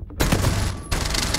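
Gunfire from the Rainbow Six Mobile video game erupts as a loud, dense volley of overlapping shots, starting sharply and then continuing in a second burst after a brief dip.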